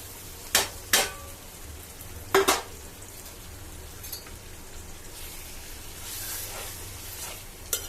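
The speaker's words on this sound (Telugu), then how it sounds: "ఒక్క పది నిమిషాలు ఇలాగా నూనెలో వేగనిద్దాం ఈ గవల గల్లబొట్టిని" Gavvala galaboti (small shells) frying in oil with onions: a steady, soft sizzle under a few sharp clatters of stirring against the pan, close up, with no voices.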